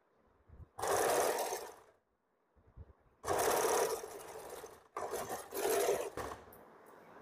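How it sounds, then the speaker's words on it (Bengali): Stitching a seam on an umbrella frock, a sewing machine whirs in three close bursts of steady running, each separated by short silent pauses. "আমি এখান থেকে সেলাই করছি"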